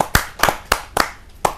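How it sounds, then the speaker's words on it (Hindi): A few pairs of hands clap in a quick, uneven burst at a kavi sammelan poetry gathering, sharp close claps with short gaps between them rather than full crowd applause. "जोरदार ताली के साथ"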